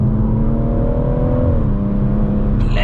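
A 440bhp BMW M140i Shadow Edition on Michelin Pilot Sport tyres pulls hard from inside the cabin, its engine note rising steadily with a deep, continuous drone before a gear change shifts the pitch.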